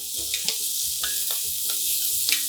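Onions and herbs fry in a pan, a bright continuous sizzle broken by several scraping stirs of a utensil, all close and fairly loud with no talking.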